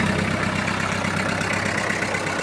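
A small Japanese Kubota GT-3 mini tractor, fitted with a rotary tiller, idles on a cool day with a steady, even diesel chug. The engine runs close and continuously with no other sounds.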